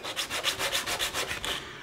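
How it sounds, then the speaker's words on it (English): A wooden block rubs back and forth on sandpaper in quick, even strokes, about a dozen rhythmic gritty scrapes close up. "put the sandpaper on your bench in front of you and rub the block on that to get it nice and smooth"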